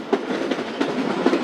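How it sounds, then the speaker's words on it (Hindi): Train wheels clatter in a steady clickety-clack as the Karachi Express overtakes the 7 Up Tezgam at Kisan railway station, a loud, close rush of rolling rail noise with rhythmic joint clicks and no talk. "किसान रेलवे स्टेशन पर हमारी ट्रेन ओवरटेक कर रही है 7 अप तेज़गाम को"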